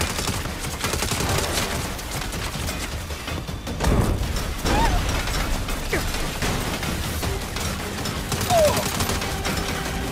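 A rapid, sustained burst of heavy turret machine-gun fire erupts during a Saints Row firefight, dense and loud, with mechanical clatter and scattered impacts throughout.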